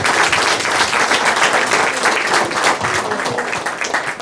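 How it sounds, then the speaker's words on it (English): A lecture audience gives a round of applause to speaker Andrew Torrez after his talk on skepticism and the law, close, steady clapping from a roomful of people throughout. "give Andrew a round of applause."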